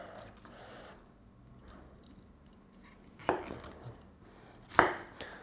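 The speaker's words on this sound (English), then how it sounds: "So you can cut this up into whatever sort of size you find convenient." Vegetables being cut with a knife on a board for a vegetarian dish: soft slicing at first, then two distinct, sharp chops a second and a half apart, close and fairly loud.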